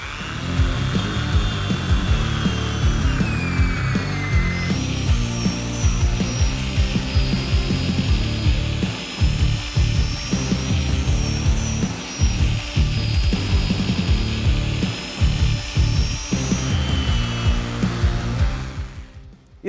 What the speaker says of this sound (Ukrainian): Тепер хочу перевірити, як ця пила буде різати ось таку колоду на 30 плюс сантиметрів